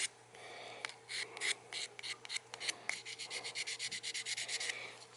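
A Martin guitar neck being hand-sanded smooth, with quick scratchy rubbing strokes that come in uneven bursts and then settle into a steady, even rhythm, close and alone.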